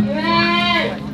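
A single loud, close bleat from a goat, wavering and nasal, lasting about a second.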